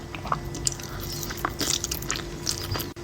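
Someone eating a spoonful of food topped with cheese, with close, soft bites and wet chewing clicks at an uneven pace, brief and intimate with no talking.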